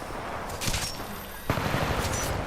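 Automatic gunfire in the video game Titanfall 2, a steady rattle of rapid shots with a sharper burst midway, loud and close with no talking.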